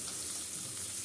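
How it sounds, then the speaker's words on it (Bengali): Chopped onions frying in a pan until golden brown, a steady, even sizzle with broad hiss close by and no voices. "পেঁয়াজ কুচিগুলো খুব ভালো করে ভেজে নিব"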